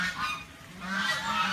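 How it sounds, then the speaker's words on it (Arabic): Ducks near a river give a couple of short, nasal honking calls in quick succession, moderately close and alone, with no talking. "هذا البط"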